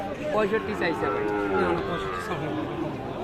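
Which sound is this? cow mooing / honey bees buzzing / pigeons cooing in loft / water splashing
cow mooing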